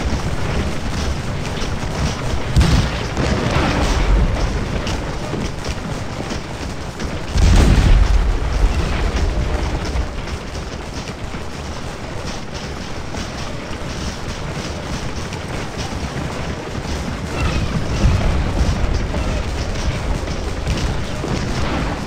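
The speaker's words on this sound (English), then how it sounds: "They come under intense carbine and canister fire as they come up the bank." Carbine and canister fire in the Civil War game Scourge of War: Gettysburg, during the 13th Alabama's attack up a bank: a steady rushing battle din broken by a few heavy booms, with no talking.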